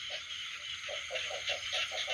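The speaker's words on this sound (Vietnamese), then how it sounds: "bữa nay mưa quá trời rồi ếch nhái gì nó kêu gân hết trơn rồi kìa" Frogs croak in a repeated series of short, evenly spaced calls during heavy rain in rural fields of the Mekong Delta, with a steady hiss of rainfall throughout.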